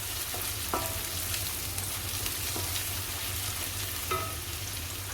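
Onions sizzle and fry steadily in a pan for a cauliflower and pea sabzi, a continuous close crackle with a few sharper stirring clinks scattered through.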